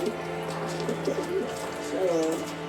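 Short-faced pigeons coo in a loft, several soft rolling coos overlapping through the clip, fairly close, over a steady low background hum.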